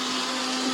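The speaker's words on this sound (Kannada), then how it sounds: "ಸ್ವಾತಿ ರುಬ್ತಿದ್ದಾಳೆ" A mixer grinder grinding kebab masala powder with kasuri methi, running as a loud, steady high-pitched whir with a constant motor hum and no pauses.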